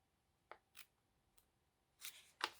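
Paper is cut for a collage with scissors or an X-Acto knife, a few quiet, close snips and crisp cutting sounds spaced irregularly, the last ones louder, in a quiet room with no talking.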